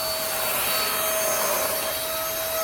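A loud, steady whine of a small battery-powered Dewalt cleanup vacuum motor picking up floor debris, with a constant high tone and airy rush, running continuously close by with no speech.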